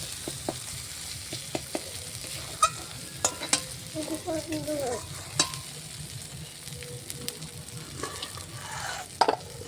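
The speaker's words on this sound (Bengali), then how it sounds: "তারপর হালকা পরিমাণে একটু নারকেলের দুধ দেবো, দিয়ে ওটা ভালো করে কষাতে থাকবো যতক্ষণ না তেল পুরোপুরি ছাড়ছে আর মশলাটা কষানো হচ্ছে" Spice paste with coconut milk fries in a pan for a shol fish malai curry, giving a steady low sizzle with scattered stirring scrapes and clinks of a spoon against the pan, heard alone without talk.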